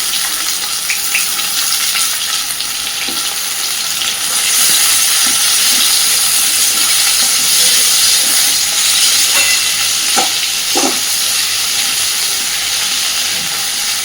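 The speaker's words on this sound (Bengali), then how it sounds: "আলুটাকে একটু ভেজে তারপরে চিচিঙ্গাটা অ্যাড করব।" Potato pieces fry in oil with onion, giving a loud, continuous sizzle throughout, with a few soft utensil knocks and no talking.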